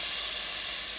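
Tuna steak sears in a hot pan, a close, steady broadband hiss of sizzling that holds evenly for about a second with no voices.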